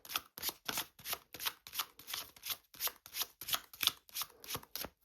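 A deck of cards being shuffled in rapid riffles, a dozen or so crisp bursts in steady rhythm, close and clear with no talking.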